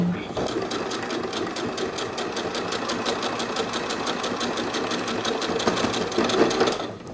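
A sewing machine stitches a fabric bag, running in a fast, steady, evenly spaced rhythm for the whole stretch, close and clear.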